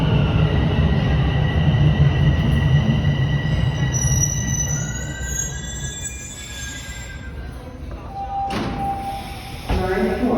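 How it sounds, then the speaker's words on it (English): An eastbound TTC Line 4 subway train pulls out of Bayview station, a heavy rumble of wheels with rising electric motor whines and squeals, fading as it leaves, followed by a sharp thump near the end. "there goes the eastbound train, making its way to Don Mills"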